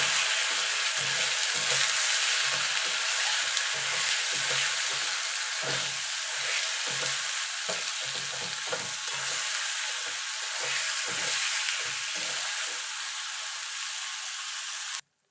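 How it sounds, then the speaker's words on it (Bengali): Masala for a vegetable khichdi fries in a pan, giving a loud, continuous sizzle close up with repeated scraping stirs throughout, then cutting off abruptly at the end. "এবার মশলাটাকে ভালো করে কষিয়ে নেবো"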